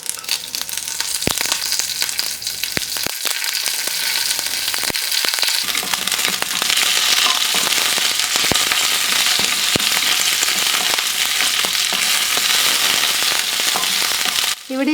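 Green chillies and curry leaves sauté in hot coconut oil with mustard seeds, sending up a loud, steady sizzle with scattered pops and crackles that continue close by throughout.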